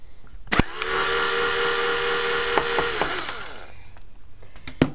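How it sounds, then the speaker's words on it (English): Cordless power drill driving out tight screws on a PlayStation 3 console, a steady whirring motor tone held for about three seconds and framed by clicks and handling knocks, fairly close. "So if you're using a drill, make sure you have it on the highest gear because these screws will be tight."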